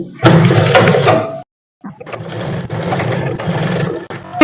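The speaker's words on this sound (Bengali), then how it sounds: "আমি ঘুরিয়ে আবার এই সাইডে সেলাই করে নিচ্ছি" A sewing machine stitching a blouse sleeve to the body runs in two loud mechanical bursts of rapid whirring and clatter, separated by a brief silent pause.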